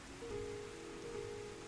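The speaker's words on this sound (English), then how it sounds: "Oh good, it's raining." Steady soft rain falls in the video game Final Fantasy XIV Endwalker, a faint even patter with a thin sustained tone running through it.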